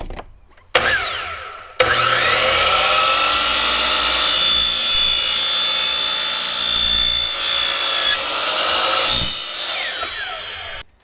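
Cutting a 2-inch schedule 40 PVC pipe with a power tool, a loud, sustained whining cut lasting about eight seconds after a couple of sharp clicks, then winding down.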